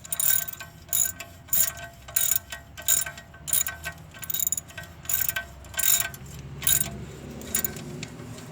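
Ratchet wrench snugging down a self-locking nut during CVT transmission work on a 2011-2015 Nissan Rogue: a steady run of close, crisp ratcheting clicks in short rhythmic bursts, with no talk.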